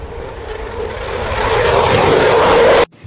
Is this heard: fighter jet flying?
yes